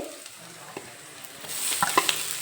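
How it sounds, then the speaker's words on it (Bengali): Radish greens go into a pan of fried onion, garlic and green chili and get stirred, producing a soft, continuous sizzle that swells midway, with light utensil clinks and scrapes, close by and without talk. "মূল শাক দিয়ে দিলাম একটু নেড়ে চেড়ে নেব"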